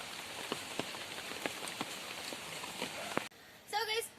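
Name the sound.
light rain falling on a fish pond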